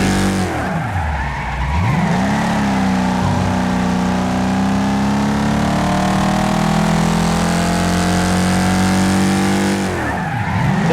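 A racing car in a video game on the Motor City Circuit with long gearing, its engine droning loud and steady at high revs with rising pitch sweeps as it shifts, plus tire squeal through turns, no talk.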